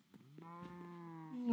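A blocky Minecraft cow gives a drawn-out, nasal moo with a steady pitch, heard close and fairly quiet with no talking over it.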